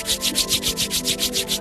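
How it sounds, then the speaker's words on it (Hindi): Two palms rub briskly together in a steady back-and-forth rhythm, about ten swishing strokes close up, with no voice over them. "अपनी दोनों हथेलियों को आपस में रब करें।"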